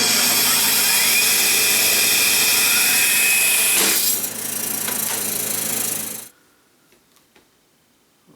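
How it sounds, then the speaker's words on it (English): Bandsaw running and cutting into a big block of wax, a loud close steady whine with a brief dip as the blade bites, then the machine cuts off and only faint clicks remain. "we're going to try the bandsaw and see how that works out for us"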